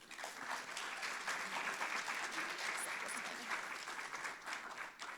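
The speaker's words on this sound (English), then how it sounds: "So please give him a round of applause." Audience members at a university event applaud as the provost of Emory University is welcomed to the stage, a dense, steady clapping with some crowd murmur and voices mixed in, fairly quiet and even throughout.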